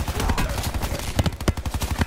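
Rapid gunfire bursts from a Mog 12 shotgun in Call of Duty Blackout, a dense run of sharp close shots that grows more spaced and punchy toward the end, amid game noise.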